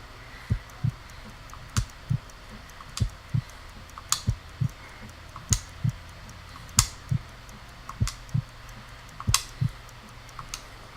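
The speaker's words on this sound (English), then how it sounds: "You need to concentrate and count the damn heartbeats, not drink tea." Slow, evenly spaced heartbeats thump in the Sherlock Holmes Crimes & Punishments video game, each a soft double pulse repeating over a faint background hum.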